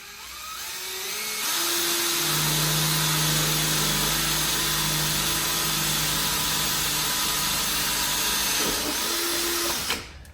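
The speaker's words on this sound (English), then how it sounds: "I'm gonna drill a pilot hole with one of my sexy new drill bits" A power drill drilling a pilot hole runs continuously at close range, a loud steady whine with a shifting pitch as the bit bores in, then stops abruptly.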